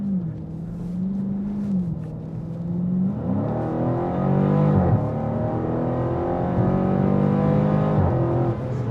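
A Dodge Challenger R/T Scat Pack Wide Body engine rumbles loud and close, then climbs through repeated revving surges with sharp pitch drops between gears as it accelerates.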